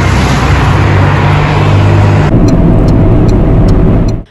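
Road traffic moves through dense fog in Diyarbakır, where visibility is down to about 20 metres: a loud, steady rush of passing vehicle noise whose character shifts abruptly midway, then cuts off sharply at the end.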